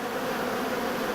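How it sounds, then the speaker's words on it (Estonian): A dense, steady buzz of honeybees swarming around a large apiary of oversized Russian-style hives holding about twenty-five colonies, continuous and even throughout with no voices. "Nii et veerand miljonit mesilast mahub siia."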